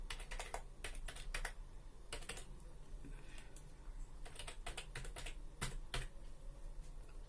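Fingers tap a computer keyboard in quick irregular bursts of clicks, close and distinct, with short pauses between groups of keystrokes against a quiet background.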